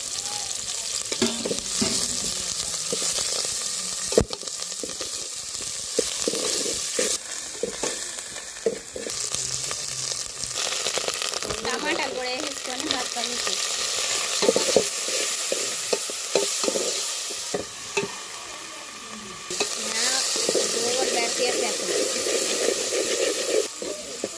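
Onion and green chilli fry in hot oil and are stirred repeatedly, making a continuous close sizzle punctuated by scraping and clattering strokes of the spatula against the pan.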